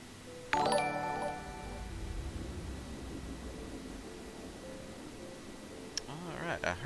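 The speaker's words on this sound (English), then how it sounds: "I heard something chime in there." A bright ringing chime sounds once in the Star Citizen video game, fading slowly over low background noise while a voice talks, with a faint tinkle near the end.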